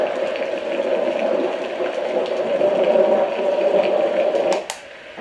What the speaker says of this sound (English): Here's thunder and storm.